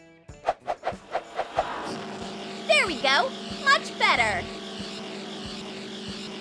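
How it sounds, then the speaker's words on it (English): A small engine cranks with a string of quick rising pulses, then catches and runs with a steady buzzing drone while voices talk over it. "Start my engine."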